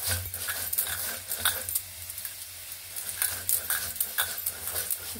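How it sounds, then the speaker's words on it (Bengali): Roasted cumin and coriander seeds being ground by hand on a flat grinding stone, giving a steady scraping, crunching rub with rhythmic strokes over a low background hum, no talking. "এই শিলে আমি সেই জিরে আর ধনে ভেজে রেখেছিলাম, আমি এটা একটু বেটে নিচ্ছি।"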